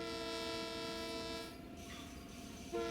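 Long Island Rail Road train horn in Train Sim World 4, a single-tone blast that holds steady, breaks off, then sounds again loud and close over a low rumbling engine.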